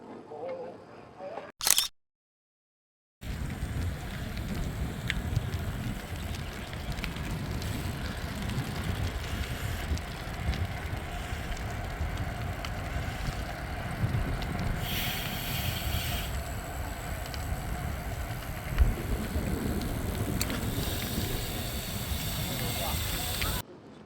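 Strong wind buffets a beach on a grey day, roaring as steady broadband rumble close to the microphone for most of the span after a brief dropout near the start, with a few faint gusting swells.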